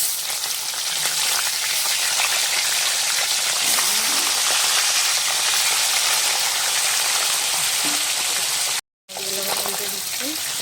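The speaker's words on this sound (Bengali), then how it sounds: "বাকি মাছগুলো আমি এভাবে ভেজে নেব।" Tilapia fish fry in hot oil with a loud, steady crackling sizzle that fills the whole stretch, broken only by a brief cut near the end, with no talk over it.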